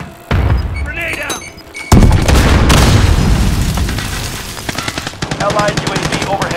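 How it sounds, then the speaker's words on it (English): A grenade blasts in Call of Duty 5 with a sharp, loud boom, followed by a second heavy explosion amid rapid machine-gun fire, close and dense with battle noise. "Grenade"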